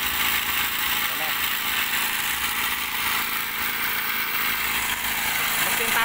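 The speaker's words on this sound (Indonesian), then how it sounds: "mesin Tasco TU ya." Tasco TU26 mini engine driving an axial water pump for irrigating rice fields, a steady buzzing, high-revving drone that runs loud and unbroken throughout.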